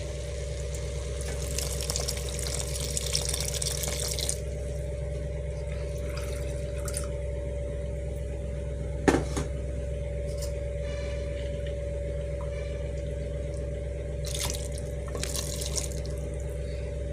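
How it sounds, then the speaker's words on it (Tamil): Water splashes and trickles into a cooking pan holding prawns and broad beans, a soft steady pour over a constant low kitchen hum, with one sharp clink midway and no talking. "இப்போ வந்து நம்ம தண்ணி ஊற்றலாம்."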